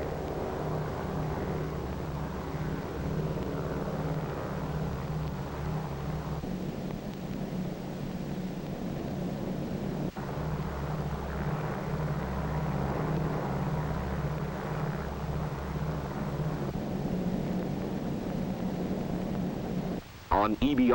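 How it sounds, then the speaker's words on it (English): Steady low engine drone of the B-29 bomber Dave's Dream flying toward Bikini with escort planes in 1946, a constant rumbling hum throughout with slight shifts in tone. "With her escort of photographic and weather and instrument planes, Dave's Dream proceeds to the Bikini target."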